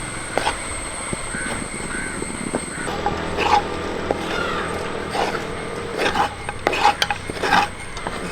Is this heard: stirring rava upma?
yes